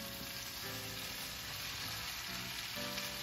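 Salmon sizzling in a hot pan, a steady crackling fry at low volume, continuous and close, with no voices.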